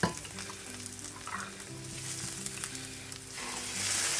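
Sauce sizzling and frying in a pan with onions over low heat for spinach tagliatelle, a steady crackle with faint stirring and a brief hum, close and alone without talk.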